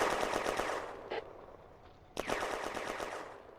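Machine gun fire in a World War II game set in June 1940 France, two loud rattling bursts, the first long and fading, a short pause, then a second sustained burst that tapers off, with no voices.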